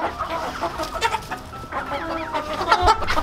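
Backyard chickens cluck busily right underfoot at feeding time, a close, continuous chatter of overlapping clucks and squawks from the flock.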